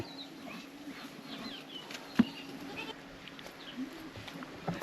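Goats with a two-day-old kid in a village near Anthiyur bleat faintly and intermittently amid quiet outdoor ambience, with one sharp knock partway through.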